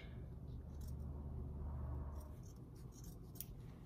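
Scissors snip through a silk seam allowance, trimming it from a quarter to an eighth of an inch, making several small, quiet, close-up cuts and rustles over a low background hum.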